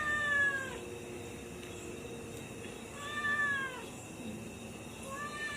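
A cat meows close by, three drawn-out meows spaced a few seconds apart over quiet room background, with no talking.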